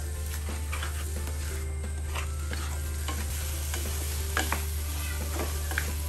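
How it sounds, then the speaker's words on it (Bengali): Lentils being stirred with drumsticks in a pan over the stove, as for a cumin drumstick dal: steady scraping stir strokes over a low continuous frying sizzle and a constant hum, with no talking. "এখন আমি ডালটা দিয়ে নাড়াচাড়া দিচ্ছি, একটু চুলা বাড়িয়ে আবারও 1 মিনিট নাড়াচাড়া দিব ভিউয়ার্স।"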